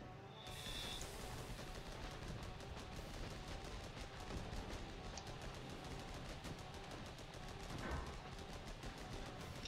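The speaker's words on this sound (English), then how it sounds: "Now we're taking fire." Enemy tank fire in Armored Battle Crew, heard as a dense, muffled rattle of gunfire and mechanical clatter that goes on throughout at low volume, with one louder thump near the end.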